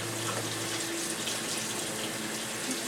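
A kitchen faucet runs steadily while beans are rinsed under it, a close, continuous splashing rush of water with no pauses.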